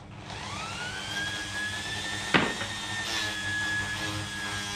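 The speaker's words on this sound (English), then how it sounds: "it's Dremel time" A Dremel rotary tool with a bit fitted grinds on a Suzuki SV650 engine part during a rebuild. A steady high whine runs close and fairly loud, with a sharp scraping burst partway through and no voices.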